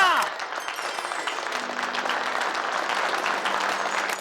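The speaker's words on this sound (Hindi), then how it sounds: "तालियां!" Applause breaks out at a comedic Ramlila-themed gathering in Lapataganj, steady clapping from a crowd after a brief musical flourish at the start, with a low sustained tone running beneath the later part.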